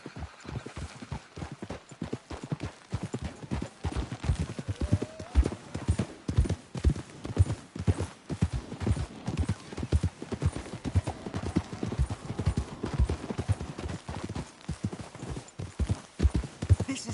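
Steady clip-clop of horse hooves trotting in a video game, a rapid even rhythm that continues throughout with no voices.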